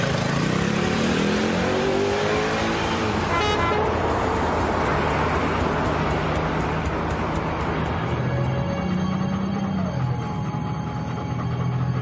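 A motorbike revving and pulling away, the engine note rising in pitch then fading as it departs, mixed with other traffic and a horn.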